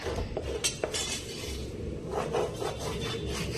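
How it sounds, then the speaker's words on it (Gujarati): A spoon mixes besan dough for homemade aloo bhujia in a bowl, giving a few soft, close scrapes and clinks over a steady low background, with no talking. "તો હવે આપણે આ રીતે ચમચીથી એકસાથે કરી લઈશું."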